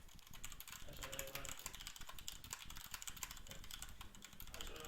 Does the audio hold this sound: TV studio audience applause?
no